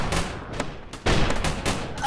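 Rapid gunfire bursts from minigun towers in the Roblox game Tower Battles, loud and close, in stuttering volleys with brief gaps between them.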